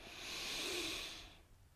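Slow, deep breath drawn during a gentle qi gong exercise for seniors, a soft airy rush that swells and fades over about a second, close and quiet with no talking.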